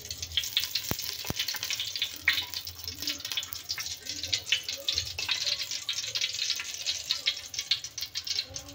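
Oil poured into a pot on the gas stove for egg tahari sizzles and hisses steadily at close range, with a couple of sharp metallic clicks near the start.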